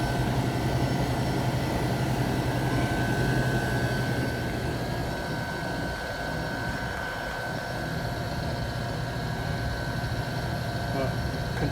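A freezer's compressor and condenser fan blower run with a continuous steady hum and whooshing drone, close and loud, unchanging throughout.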